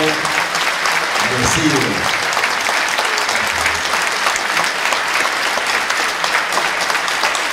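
Loud, sustained applause from a large political rally crowd in Córdoba greets Dr. Mauricio Carrió, a thick, continuous roar of clapping with voices shouting over it.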